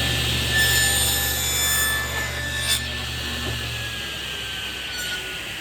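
A saw cuts a test kerf in hardwood with a close, steady rasping, then softens and trails off toward the end.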